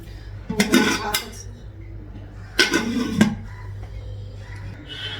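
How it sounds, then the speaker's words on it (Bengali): Metal woks and pans being washed in a home kitchen, heard as two distinct bursts of close, ringing clatter and scraping with quiet pauses between them. "কড়াইগুলো সব ধুয়ে নিব"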